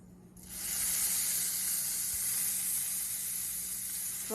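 Olive oil on a flat grill gives a steady, bright sizzle that starts after a short quiet moment and holds loud and even, with no talking over it.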